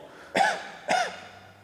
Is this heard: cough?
yes